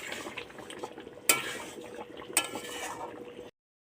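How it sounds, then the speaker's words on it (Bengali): Meat masala being stirred through food in a cooking pan, with steady scraping and light clinks of a utensil against the metal, two sharp knocks standing out, before the sound cuts off near the end. "একটু মিট মশলা দিচ্ছি, নেড়ে চেড়ে।"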